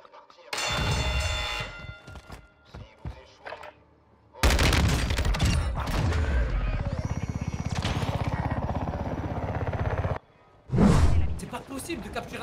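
ISO submachine gun fire in Warzone 2 rattles out in long, loud, rapid bursts at close range, separated by short gaps and quieter in-game noises, with a player's voice talking over parts of it.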